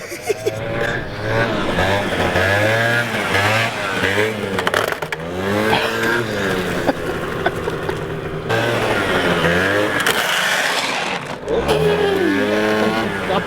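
A Harley motorcycle engine running during stunt riding gives a steady low rumble throughout, with people talking over it close to the microphone.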